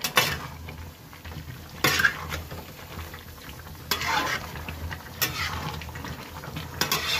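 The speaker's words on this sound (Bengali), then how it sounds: "ভালো করে একটু উপর নিচে নাড়াচাড়া করে দিলাম।" A spoon scrapes and clatters around a pot of mutton and bottle gourd curry cooking over high gas, with intermittent sharp metal knocks over a soft bubbling sizzle.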